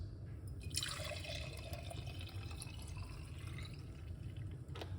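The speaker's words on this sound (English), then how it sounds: "let's pour it into our cup right here" Liquid poured into a cup for a homemade morning health drink, a steady faint trickle and splash running continuously over low background hum, with no talking.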